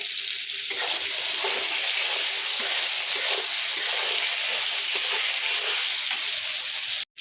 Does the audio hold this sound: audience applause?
no